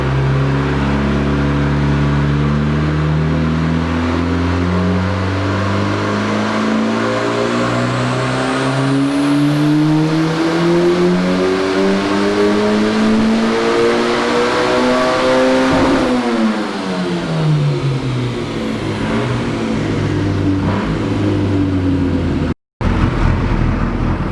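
Cummins turbo-swapped Volvo wagon on a chassis dyno, its engine loudly revving up through a long pull with a rising turbo whine, then dropping off as the throttle closes and it winds down.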